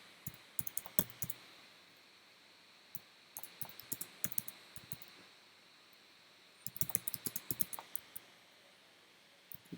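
Fingers type on a computer keyboard in quick bursts of close, crisp key clicks separated by short pauses, with a final lone tap.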